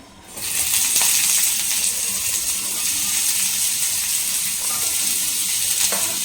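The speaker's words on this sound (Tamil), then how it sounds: "கட் பண்ணி வச்சுருக்கிற ஆனியன் சேர்த்துக்கலாம்" Chopped onion sizzles steadily in oil on a tawa, a close, continuous hissing fry with faint scrapes, heard alone without speech.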